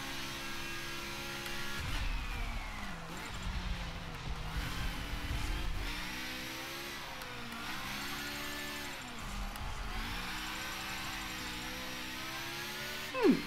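A race car engine in Forza Motorsport 7 revs up and down through the gears in a steady, droning whine as the car accelerates and shifts, with a brief louder burst at the end.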